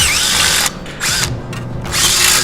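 Close power drill running in short bursts while drilling oil drain holes in metal on a valve cover, the motor whining loud, briefly dropping off twice before spinning up again.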